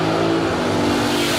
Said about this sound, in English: Sounds like we're at the NHRA race and Top Fuel just ran